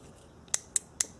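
A small relay clicks sharply four times at a steady rhythm, about a quarter second apart, as it is powered from a battery pack. The clicks sound close and crisp over a faint background hiss.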